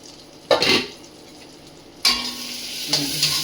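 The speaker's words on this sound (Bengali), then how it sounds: "টমেটোগুলো যতক্ষণ না ভাজা হবে আমি আবার একটু চাপা দিয়ে দেবো" Tomatoes fry in a pan with a steady sizzle, punctuated by louder hissing surges as the pieces are stirred, three times in quick succession.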